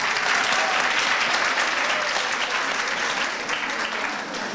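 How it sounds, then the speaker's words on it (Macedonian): An audience applauds at a women's leadership panel, a dense, sustained burst of clapping from many hands that fills the room and eases slightly toward the end. "Навистина заслужуваат аплауз, ви благодарам што го направивте тоа."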